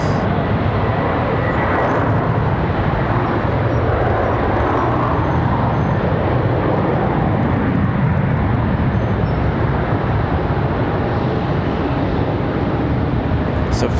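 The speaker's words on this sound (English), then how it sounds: "Can really hear those departures firing off." Jet airliner departing Charlotte Douglas International Airport, a loud continuous broadband engine roar heard from the spotting area, steady and unbroken throughout, without talking.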